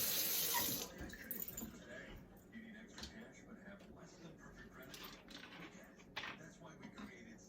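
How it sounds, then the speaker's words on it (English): Water runs from a tap in a strong gush at first as hands are washed, then continues as a steady softer stream with clinks and handling noises, and someone talking. "wash my hands over here on this side."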